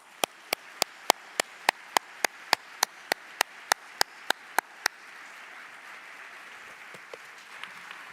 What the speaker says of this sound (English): let's give a warm round of applause of all of you